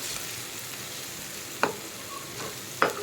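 Chicken tawa fry masala frying with green chillies in a pan, a steady soft sizzle with two sharp spoon scrapes against the metal.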